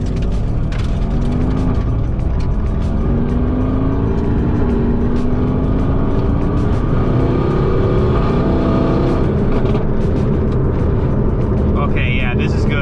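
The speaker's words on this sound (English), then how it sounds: "The tires make a lot more noise now." Sticky tires on a widebody AMG roll over pavement, giving a loud, steady road roar with engine drone underneath, scattered ticks and clicks, and faint bits of talk near the end.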